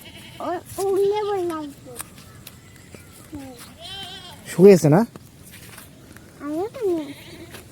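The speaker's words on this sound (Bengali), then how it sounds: "এই ছাগল গুলো কার দেখো তো" Goats bleating close by outdoors, a few separate quavering calls spread out with gaps, one louder burst near the middle, while a child and an adult speak briefly in between.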